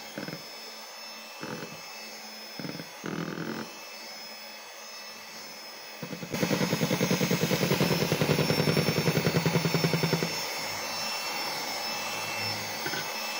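An electric hand mixer beats rice-flour cookie dough as hot oil is worked in, a steady motor whine that swells into a louder, rougher churning for a few seconds before easing back, no talking.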